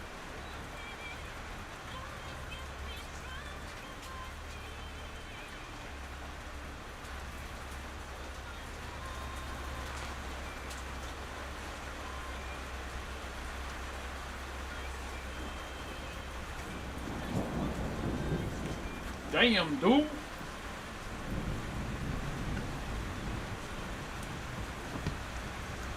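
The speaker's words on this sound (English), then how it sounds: "it's pouring rain, thunder, lightning" Heavy rain pours steadily in a countryside thunderstorm, a constant hiss with a low rumble building near the end, and a voice briefly exclaims over it.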